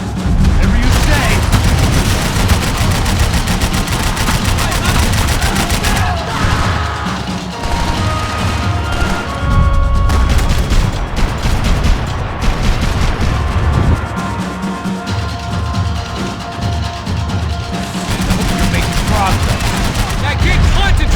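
Dense, continuous gunfire and chaotic combat noise from a shootout in Max Payne 3, loud and sustained with bursts, crashes and booms, bullets flying close, and voices shouting in between.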